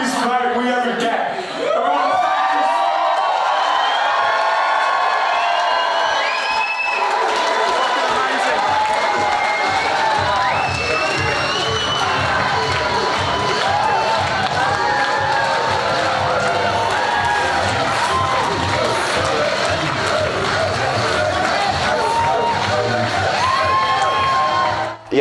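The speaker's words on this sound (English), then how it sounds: "you guys are the loudest crowd we ever get" A large live-show crowd cheers, whoops and shouts loudly and continuously for the whole stretch, a dense roar of many voices filling the space with scattered high yells.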